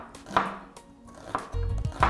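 A knife slices an onion into thin strips on a board while butter melts in a saucepan. A few quick, separate chops land close by, with no speech.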